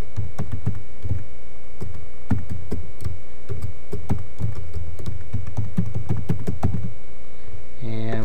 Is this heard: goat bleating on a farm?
no